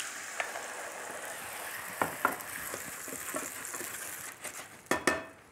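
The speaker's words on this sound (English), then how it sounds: "Okay, so fry your garlic off. I'll get that chili in." Garlic and chili fry in a pan, a steady soft sizzle and crackle with scattered pops and a few louder spits near the end.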